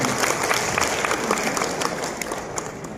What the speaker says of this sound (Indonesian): Tepuk tangan melingkar lagi buat semuanya.